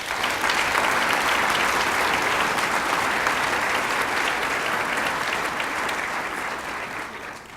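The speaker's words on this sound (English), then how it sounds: "Please join me in a round of applause for our coaches." A large audience at a student design studio showcase gives sustained applause for volunteer coaches, a loud, dense wash of clapping that stays strong and only tapers slightly in the last moments.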